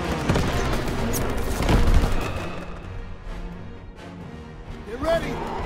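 Gunfire crackles through a World War II battle in Call of Duty WWII, with rapid bursts and heavy booms mixed under loud shouting voices.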